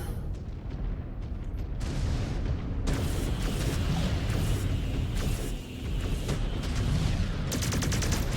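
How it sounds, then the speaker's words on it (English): A mech in MechWarrior 5: Clans fires missiles at a target, producing dense rumbling salvos of launches and impacts with booming blasts amid constant battle noise. "Just gonna shell it with missiles."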